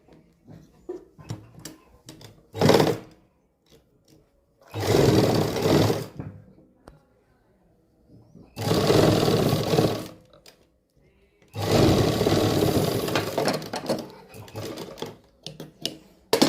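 A sewing machine stitching darts on a suit runs in four loud, close bursts of rapid whirring stitching, separated by quiet pauses with small handling clicks.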